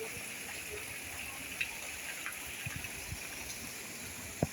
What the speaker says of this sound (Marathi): ते मस्त पाण्याचा झरा वाहतो